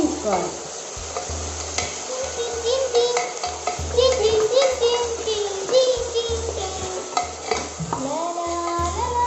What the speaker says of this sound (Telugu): ఇది అల్లం వెల్లుల్లి పేస్ట్ కొంచెం పచ్చివాసన పోయే వరకు మనం వేయించుకోవాలి.